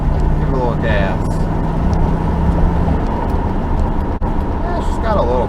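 A 1977 Corvette L48 V8 with T-tops pulls under light throttle while cruising in third gear, a steady low engine drone filling the cabin throughout.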